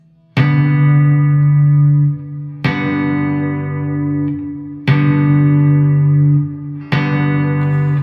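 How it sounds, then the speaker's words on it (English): Electric guitar with a major chord shape tapped two-handed, four separate ringing strikes in a steady rhythm, each chord sustaining brightly before the next, loud and close with no voices. "So now we are going to take our major shape and just tap all the fingers at the same time so all the strings resonate."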